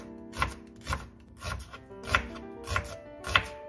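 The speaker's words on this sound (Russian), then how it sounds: "Режем пополам и нарезаем полукольцами." A knife cuts an onion into half rings against a board in a steady rhythm, about six crisp chops, close up and otherwise quiet.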